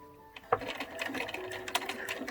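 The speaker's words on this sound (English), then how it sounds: "I'm going to sew all the way down" A sewing machine runs steadily, stitching down the edge of a fabric face mask, a close, quiet rapid needle patter with small mechanical clicks.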